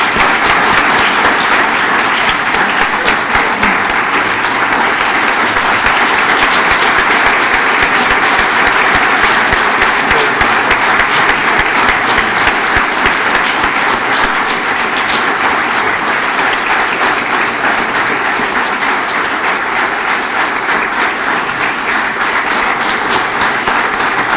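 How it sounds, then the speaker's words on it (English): A large crowd at a military commissioning ceremony applauds new second lieutenants, dense, steady clapping that carries on evenly for over twenty seconds without pause. "a round of applause for these great second lieutenants"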